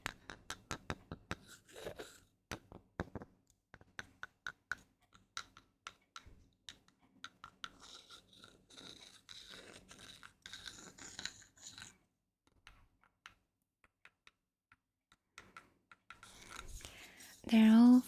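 Wooden pencils and a pen are handled close up, giving small clicks, taps and light scratches scattered among soft whispered talk.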